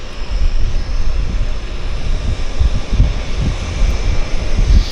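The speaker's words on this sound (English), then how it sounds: "they're going to start the takeoff roll back there." Floatplane beginning its takeoff roll on the water at Vancouver's downtown harbour, a distant low engine rumble mixed with wind noise, steady and fairly loud.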